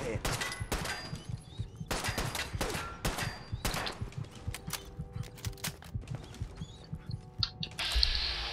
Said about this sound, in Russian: Так, еще один выстрел.